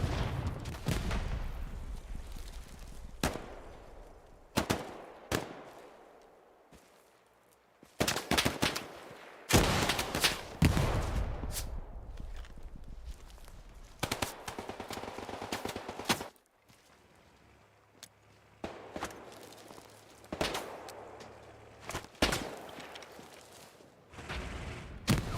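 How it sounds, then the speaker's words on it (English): Bursts of WWII-era machine gun fire and other gunshots in the online PvP shooter Hell Let Loose, in sharp, loud volleys separated by short lulls across a noisy battlefield. "Got a machine gunner to our left."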